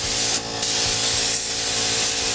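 A spray gun applies PPG automotive paint to a 1960 fire engine pedal car in a Bakersfield auto body shop, a loud, steady hiss that cuts out briefly and resumes, continuous and close.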